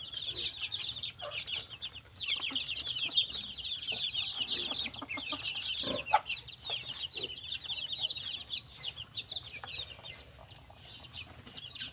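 Rhode Island Red and black Australorp chickens cluck and chatter steadily through the stretch, several birds close together, with occasional soft wing flaps and a low hum of farmyard background noise.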